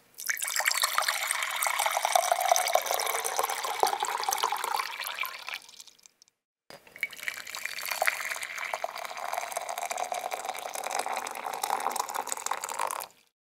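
Water runs steadily from a tap in two long stretches, split by a brief pause, a close hissing splash with no talking.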